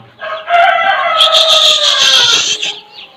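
Rooster crowing loudly and close on a farm where chickens and young chicks are kept, one long drawn-out crow with faint clucking around it.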